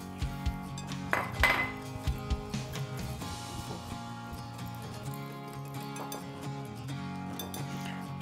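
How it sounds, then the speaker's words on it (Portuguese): Brown and white sugar are stirred together in a bowl for pumpkin scones, with a utensil scraping and clinking against the bowl in irregular taps, louder near the start and softer and steadier afterward. "Vamos misturar também."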